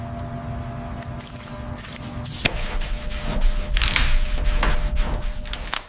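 Rhythmic abrasive rubbing strokes of sanding a Buick Skylark car body before paint, close and growing louder after a sharp knock partway through.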